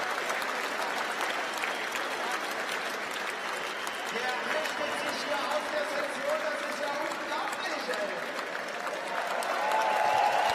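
Crowd at a bike trials World Cup final in Berlin cheers and applauds steadily throughout, a dense continuous roar that swells louder near the end, with commentary voices mixed in.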